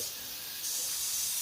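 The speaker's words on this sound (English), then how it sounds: "I need to spray it down a little bit." Water hisses from a spray bottle onto a potted tomato plant in a self-wicking container garden. The spray is a steady, faint, breathy hiss that grows stronger partway through, with no talk over it.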